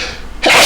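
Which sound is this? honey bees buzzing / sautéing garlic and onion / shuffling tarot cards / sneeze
sneeze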